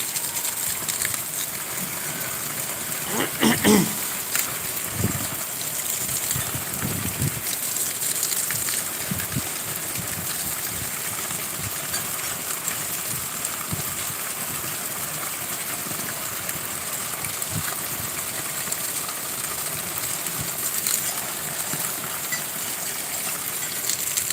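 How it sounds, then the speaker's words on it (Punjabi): Steady, dense hiss of heavy rain with rushing water pouring down from roof spouts, continuous and enveloping, with a few faint knocks early on. "ਮੀਂਹ ਦੇਖੋ ਕਿਵੇਂ ਉਥਿਆਂ ਦੇ ਪ੍ਰਣਾਲੇ ਆ ਜਿਹੜੇ ਚੱਲ ਪਏ ਨੇ"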